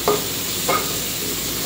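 Curry paste stir-fries in a hot pan with a loud, steady sizzle, punctuated by two brief scraping strokes of a utensil, no voices.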